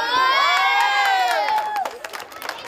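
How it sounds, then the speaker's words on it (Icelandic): Children cheer and shout together in a loud, excited crowd burst at a school chess tournament, high voices whooping over one another before the noise thins toward the end. "fagnaðarlætin ekki spöruð"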